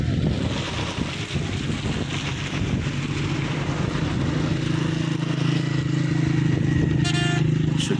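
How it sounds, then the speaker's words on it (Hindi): A motorcycle engine drones steadily on a snowy mountain road at Babusar Top, a continuous low hum that grows slightly stronger near the end, mixed with wind noise, with no talking. "शौकीन लोग जनाब मोटरसाइकिल पर भी आए हुए हैं"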